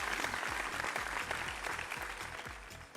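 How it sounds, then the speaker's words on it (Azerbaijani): A crowd at a gathering breaks into steady applause, dense clapping from many hands heard fairly close and sustained throughout, with a faint voice underneath. "alqışlayaq."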